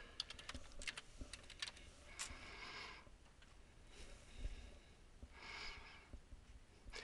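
Someone types a password on a computer keyboard: quick, light key clicks in short irregular bursts with brief pauses, close and fairly quiet, with soft breathing in the background.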